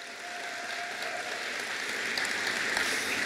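A crowd at a college convocation cheers and claps steadily throughout, the applause dense and sustained and building slightly louder toward the end.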